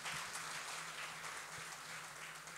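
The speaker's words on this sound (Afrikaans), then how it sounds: "Kom ons gee 'n hande klap vir die Cavaliers" Hand clapping from a gathered audience greets the Cavaliers rugby team, a steady dense patter of many hands at moderate distance with no voices over it.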